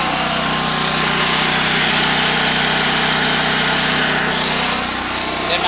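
A Subaru 5500 generator with electric start runs steadily at a constant pitch, a loud, close engine drone with a slight dip in level near the end.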